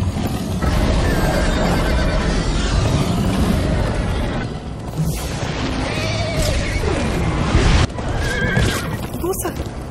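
Horse neighing repeatedly with clip-clop galloping hooves in a Minecraft Story Mode game scene, loud and close, mixed with game crashes and occasional voices.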